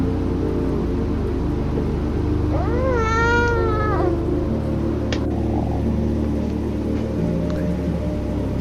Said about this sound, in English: It's starting to make some meowing sounds too.